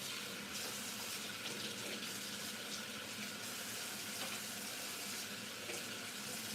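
Tap water runs steadily into a sink while peppers are washed for a Nigerian moi moi recipe, a continuous, even hiss heard alone at moderate level.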